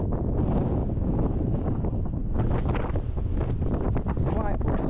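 Blustery wind buffets the microphone on the north coast of Scotland, a steady loud roar with gusts surging throughout, the full clip dominated by rumbling wind noise.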